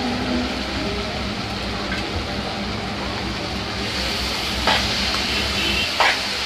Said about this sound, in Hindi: अब इसमें हम अपना हरा प्याज जो काट के रखा है वो ऐड कर देंगे।